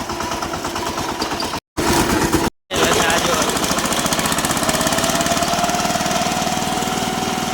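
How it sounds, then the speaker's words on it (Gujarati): A VST Shakti 130DI tractor runs at full throttle on an empty road, its diesel engine hammering in a fast, loud, even chug that continues steadily after two short gaps. "આ રસ્તો ખાલી એટલે આપણે પણ ટ્રેક્ટર ફૂલ પકડી લઈએ"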